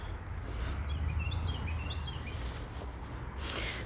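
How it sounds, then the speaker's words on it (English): Birds chirp faintly in an outdoor backyard. The short, scattered calls sit over a steady low rumble of wind and ambient noise. "But you can hear all the birds out here."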